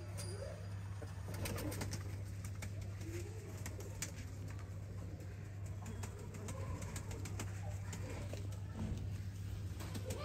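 Breeder pigeons in a loft in Sialkot coo softly and repeatedly over a steady low hum, faint and slightly distant, with little else audible.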